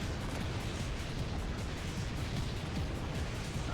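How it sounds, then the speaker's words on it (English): Dense, continuous rumbling blasts and bursts fill an escape sequence in the game Contra: Shattered Soldier, loud and unbroken with repeated low booms throughout. "So we're just going to have one giant explosion escape sequence."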